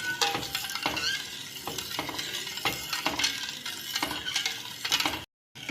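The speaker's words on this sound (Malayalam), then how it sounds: "ഇതിങ്ങനെ കൈ വിടാതെ ഇങ്ങനെ ഇളക്കിക്കൊണ്ടിരിക്കണം" Arrowroot chocolate pudding mixture being stirred in a pan on the stove, with continuous scraping and clinking of the spoon against the pan over a soft sizzle, close and steady throughout.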